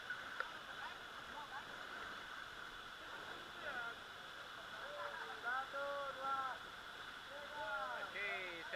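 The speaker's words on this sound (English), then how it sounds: "Oh, very good waterfall." A waterfall rushes with a constant broad hiss beside a river raft, heard moderately loud and continuous, while people on the raft shout and whoop excitedly over the roar.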